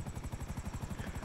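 A Russian helicopter in GTA V Online gives a steady, rapid rotor chop with rhythmic low thumping and a constant high whine, loud and close with no talking over it.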